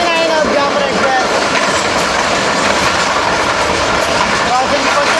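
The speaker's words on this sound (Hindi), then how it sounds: "जाफर एक्सप्रेस के साथ क्रॉस होने लगा है हरीपुर बंद पे" The Jaffar Express passenger train passes during a crossing at Haripur, a loud continuous rolling rush with rhythmic wheel clatter and a faint rising squeal, heard close alongside.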